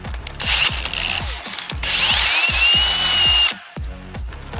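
A power drill bores a hole with an oiled bit while installing a new trailer coupler on a boat trailer. It gives a loud grinding, ratcheting whir with rhythmic clicks, stops briefly, then restarts close up.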